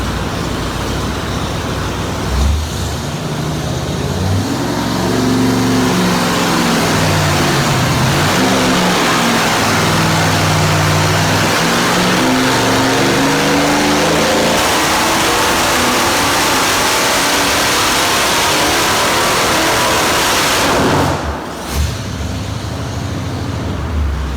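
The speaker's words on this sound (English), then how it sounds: "we installed the 500-inch Cadillac up on the dyno at West Tech Performance" A naturally aspirated 500-cubic-inch Cadillac V8 roars on a dyno, holding loud and steady before climbing through a long rising rev sweep, then cutting off and settling into idle.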